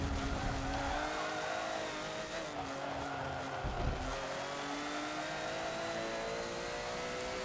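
A car in Forza Motorsport 7 GT racing slides into oversteer, its engine droning steadily with shifting pitch while the tires skid and squeal faintly throughout.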